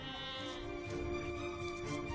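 A sheep in the strategy video game Age of Empires 2 gives a single, faint, drawn-out bleat with a steady tone.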